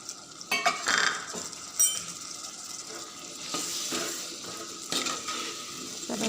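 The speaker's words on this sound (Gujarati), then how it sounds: "સરસ હલાવીને મિક્સ કરીશું" A spoon stirs potatoes, peas and red chili in a pan for aloo matar, with scattered scraping knocks against the metal over a soft, steady background hiss, and a few louder clinks near the start.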